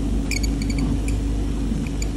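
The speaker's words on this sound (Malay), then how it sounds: "Wiper tersangkut-sangkut, bunyi macam cencorot." Close, scratchy squeaks and chirps of a rubber wiper blade catching on a wet windscreen, a few sharp squeals over a dense rumbling background.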